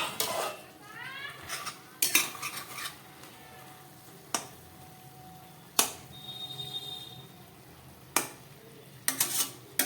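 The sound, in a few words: opening the lid of a pot of cooking bottle gourd greens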